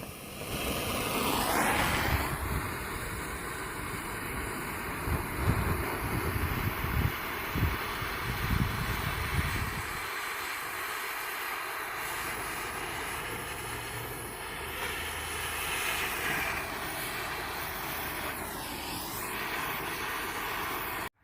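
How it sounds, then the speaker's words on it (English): A propane torch roars continuously as it is played over a wooden piece to burn the surface, a steady hissing rush that shifts slightly in tone as the flame moves, heard alone at close range. "now that we've covered the piece all over with our propane torch"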